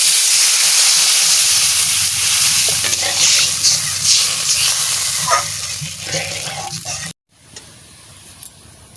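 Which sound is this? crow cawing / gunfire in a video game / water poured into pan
water poured into pan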